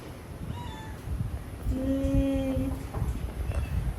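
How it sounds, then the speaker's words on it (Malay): A cat in a home with rabbits and guinea pigs meows twice, a short call followed by a longer drawn-out one, close and clear over a steady low room hum and faint background noise. "Tengok Kak Anu punya kucing"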